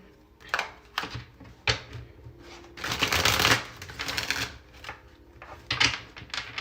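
A deck of tarot cards being shuffled up close, with riffling bursts, soft flicks and taps, and one longer dense riffle in the middle. No one speaks.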